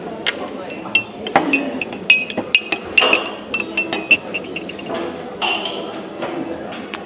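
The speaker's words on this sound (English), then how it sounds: "So let's stir this cream in the coffee." A teaspoon stirs cream into a cup of coffee at a Hilton breakfast, with a run of bright, close metallic clinks against the cup at an irregular rhythm, and a voice speaks alongside.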